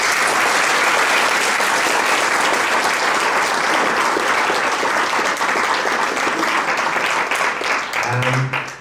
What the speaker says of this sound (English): I think he deserves a special round of applause for that.